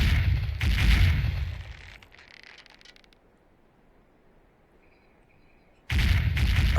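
A ship's cannon broadside fires in a naval age-of-sail game during an attack on a heavy frigate, with loud booming volleys at the start, a fade to near quiet, then a sudden loud burst again at the end.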